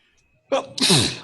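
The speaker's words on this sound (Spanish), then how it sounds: "Perdón, chicos, por el estornudo." A single sharp sneeze at close range, with a quick breathy intake and then a loud burst, during an online philosophy class.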